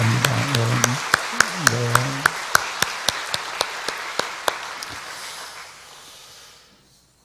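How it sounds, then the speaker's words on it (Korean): Congregation at a Thursday early-morning prayer service gives a short round of crisp, separate claps after a brief spoken word, the claps coming roughly every fifth of a second and thinning out into quiet room tone. "박수 한번 하도록 하겠습니다"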